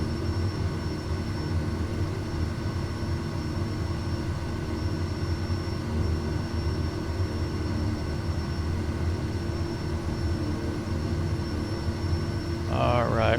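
A Kodiak 100 turboprop engine in the MSFS 2024 flight simulator runs at a steady idle, a constant droning hum with a faint whine above it, and a brief chirp near the end.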